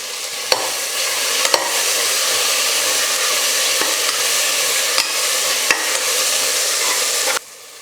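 Onion, tomato and mint sautéing in a pan for rajma pulao, a loud, dense sizzle running steadily with several sharp ladle taps against the pan at irregular intervals before it cuts off.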